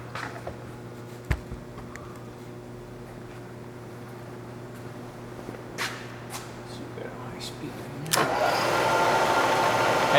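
A Bridgeport 2 hp 9x48-inch table milling machine with power drawbar clicks and starts up, then settles into a steady, fairly quiet running hum with a slight drawbar rattle; handling noises come before it.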